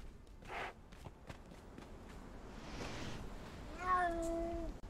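Cats in the video game Conan Exiles give a drawn-out meow near the end, after a stretch of soft footsteps and shuffling in a quiet game scene.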